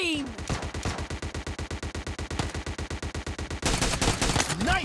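Automatic gunfire in the mobile game PUBG Mobile, a rapid, evenly spaced burst of about thirty close, loud shots, then a short scramble of game effects and a voice at the end.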